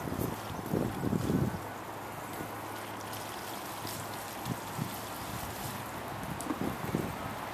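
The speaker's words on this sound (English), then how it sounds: "the rain has slowed way down" Light drizzle falls outdoors near a river, a steady soft hiss with a few faint low rumbles and scattered louder bursts early on, with no one speaking.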